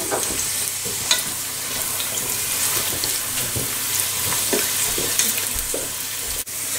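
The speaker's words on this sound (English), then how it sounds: "you're going to add in your onions and fry the onions until they're golden brown" Onions fry in a hot pan with a steady, loud sizzle, broken by occasional clinks and scrapes of stirring, with no voices over it.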